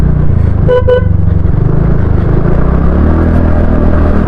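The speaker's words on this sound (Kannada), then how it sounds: "ಒಂದು ಹಾರ್ನ್ ಕೊಡ್ತೀನಿ, ಸೈಡಿಗೆ ಸರಿತಾರೇನು?" A car horn gives a short double toot over the loud, steady rumble of an engine running close by.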